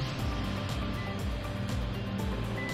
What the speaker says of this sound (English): All right, now we can turn on the car